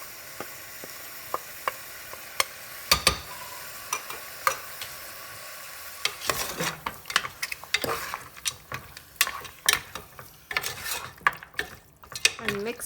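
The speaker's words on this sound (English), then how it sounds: "Just mix it well and then fry it for at least 5 minutes" Turmeric and mutton curry spices stirred and frying in a pot, with scattered scraping clicks of a spoon early on, then denser sizzling and clattering stirring noises close by, fairly quiet overall.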